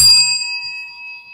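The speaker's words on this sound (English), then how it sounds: "Oh, you get a bell for that?" A single bell rings once with a bright, sharp strike, then its clear metallic tone rings on and fades slowly, heard alone with no voices.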